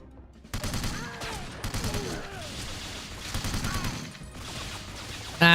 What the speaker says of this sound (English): I've been shooting everyone with bloody pistols